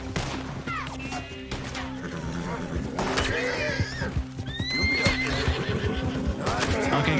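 Horse in Red Dead Redemption 2 neighing and whinnying loudly amid a chaotic gunfight, with hoof clip-clops, crashes and people shouting over it.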